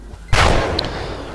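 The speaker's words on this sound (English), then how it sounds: "We got a basic cannon" A cannon fires in the pixel-art pirate game Pixel Piracy: one loud, sharp boom that trails off into a rumbling decay, heard alone.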